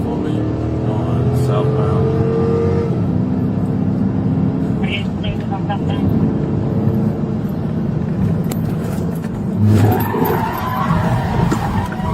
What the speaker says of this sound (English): The officer seized an early opportunity to perform a precise pit maneuver